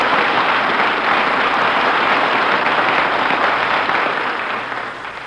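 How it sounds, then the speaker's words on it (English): A room full of people applauding loudly and steadily, the clapping fading toward the end. "was that applause for me?"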